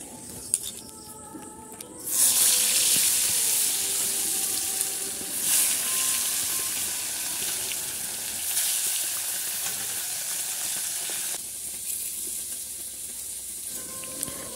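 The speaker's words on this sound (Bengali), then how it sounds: "তো প্রথমে কড়াইতে তেল দিয়ে তারপর মাছটাকে ভালো করে ভেজে নেব" Fish sliding into hot oil in a wok, Bengali bata fish, with a sudden loud sizzle that settles into a steady crackling fry, continuing alone without talk.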